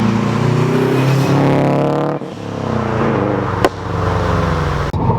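A Subaru WRX running E85 with a catless Invidia N1 turboback exhaust revs hard and loud up close, its tone climbing and falling, dropping away sharply twice between pulls, with a short pop.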